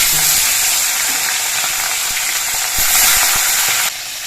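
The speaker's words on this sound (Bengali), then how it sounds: "এবার এই তেলের মধ্যে আমি মাছগুলো দিয়ে ভেজে নিচ্ছি" Pomfret fish frying in hot mustard oil in a small pan, a loud, dense, continuous sizzle close by, with light clicks of a spatula and a sudden drop in level near the end.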